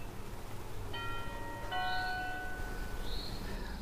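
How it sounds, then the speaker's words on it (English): A Carlon RC4610 motion entry alert receiver plays an electronic chime, a short melody of clear ringing tones set off by someone walking past the sensor. The tones sound moderately loud over a steady background hiss. "as I walk through, you'll hear the chime sound."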